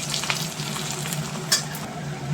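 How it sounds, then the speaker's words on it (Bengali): Onions fry in a pan with a continuous close crackling sizzle and a brief scrape near the middle, heard alone without speech. "এবার পেঁয়াজগুলো ভেজে নিই"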